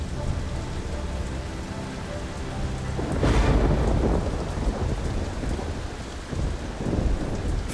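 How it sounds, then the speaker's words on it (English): Heavy tropical rain pours down on a city during a thunderstorm, with a steady roar of downpour under close, loud rumbles of thunder swelling midway and again near the end; no voices. "winds and heavy rain thrash the city in the warm tropical air."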